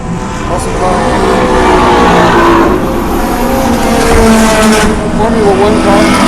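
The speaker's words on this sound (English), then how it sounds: "Formula 1 car." A Formula 1 car's high engine whine rises and falls as it passes at Barber Motorsports Park, loud and close, with a voice talking over it.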